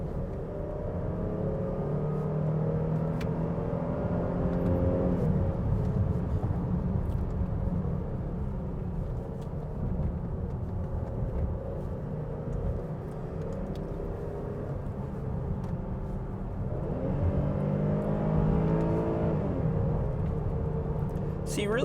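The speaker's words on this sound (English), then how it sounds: "If you prompt it to downshift, it'll wait till you have just that very top of the RPMs" A 2026 Dodge Durango GT with a V6 engine droning and revving through gear changes from inside the cabin, a steady low rumble that rises and falls, with a person talking over it.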